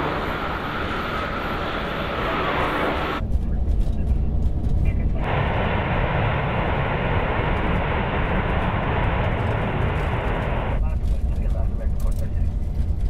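An Airbus A380 rolls out after landing at San Francisco, a loud sustained engine roar rising as reverse thrust builds, heard from inside the aircraft with cockpit sounds in the background.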